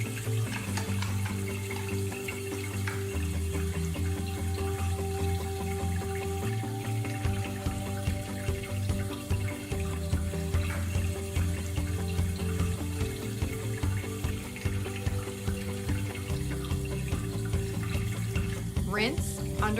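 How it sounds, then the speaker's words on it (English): Water runs steadily from a sink tap as hands are washed, a continuous close splashing hiss with background music or room sound underneath throughout. "Wet your hands under water."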